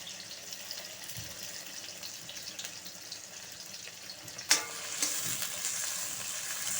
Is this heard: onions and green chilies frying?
yes